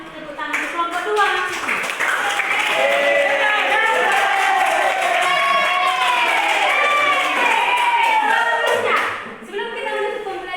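A classroom of students claps and cheers for a presenting group during a Christian religious education micro-teaching lesson, a dense, lively crowd sound with excited voices sustained for about nine seconds before tapering.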